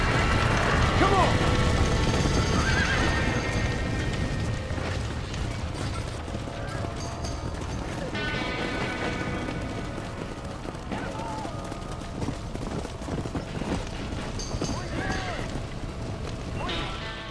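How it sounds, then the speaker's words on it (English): Galloping hooves clatter in a steady rhythm amid busy game-style ambience from Red Dead Redemption, with occasional tonal calls and mechanical clanks throughout. "Get that horse back! Get it moving! Back that horse!"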